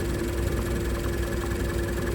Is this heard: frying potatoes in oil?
no